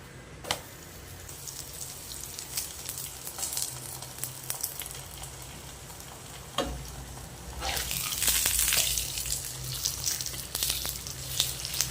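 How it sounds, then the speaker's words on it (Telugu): Sweet roti crisping in a hot pan with ghee, a steady close sizzle and crackle with a few sharp taps, the frying swelling louder toward the end. "ఇదిగోండి 2 సైడ్స్ ఇలా మంచిగా కాల్చుకొని నెయ్యి వేసుకోవాలి"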